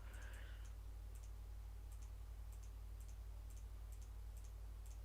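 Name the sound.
random spinning wheel ticking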